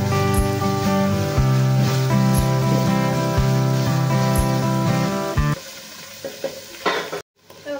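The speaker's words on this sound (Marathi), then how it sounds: "अशा प्रकारे थोडं थोडं आपल्याला हे पनीर थोडंसं सोनेरी होईपर्यंत ते पनीर असं आपल्याला भाजून घ्यायचं आहे" Paneer pan-frying until golden for a dhaba-style malai paneer, a loud sizzle under a steady rhythmic mechanical hum that cuts out partway, leaving softer sizzling and a few clatters.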